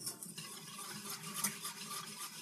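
Meatballs in teriyaki sauce being stirred in a pan over a stovetop element on medium heat, a steady scraping and rubbing of utensil against pan with a light wet sizzle, close and continuous, with no talking.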